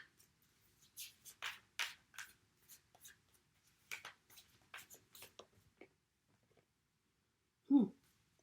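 A deck of tarot cards is shuffled by hand, giving a series of soft, close riffling and sliding flicks in irregular bursts, then a pause and one final tap.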